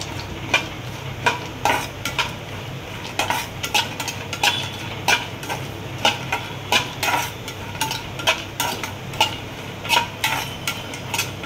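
Chopped cashews, almonds and pistachios fry in ghee in a pan for moong dal laddu. A spoon scrapes and clatters against the metal in a steady rhythm over a low sizzle, with no voices.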